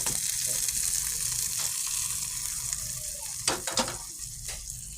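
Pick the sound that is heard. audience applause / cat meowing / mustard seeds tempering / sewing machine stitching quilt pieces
mustard seeds tempering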